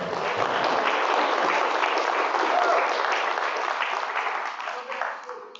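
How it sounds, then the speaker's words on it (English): Community meeting audience giving the chefs a round of applause, a dense, even wash of many hands clapping that holds steady for several seconds and then thins out toward the end. "Let's give them a round of applause as well."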